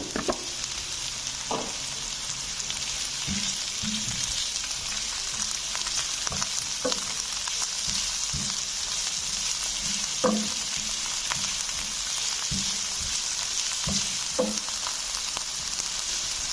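Two medium-sized chopped bell peppers (capsicum) fry in a pan for masala chicken pasta, giving a steady, loud sizzle throughout, broken by repeated soft clicks and scrapes of stirring.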